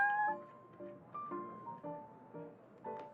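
Prince, a cat at the Cat's Tail, meows several times in short, clear, tonal calls spaced about half a second apart, close and moderately loud with nothing else in the background.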